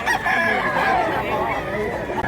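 Rooster crowing amid a crowded poultry market in Mantalungon, Barili, Cebu, the call rising through steady background chatter and scattered clucks for a couple of seconds.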